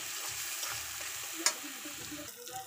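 Prawn masala is stir-fried in a pan as a soft, steady sizzle with rhythmic scraping strokes and one brief clink of the utensil against the pan.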